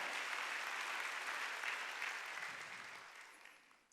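A church congregation claps together at a Korean Thanksgiving Sunday worship service, a dense, steady wash of many hands that fades gradually over four seconds.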